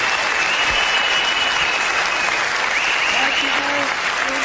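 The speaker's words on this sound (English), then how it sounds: "Give them a round of applause." Studio audience applauding at the close of a live paranormal television broadcast, a loud, sustained wall of clapping with voices faintly mixed in beneath it.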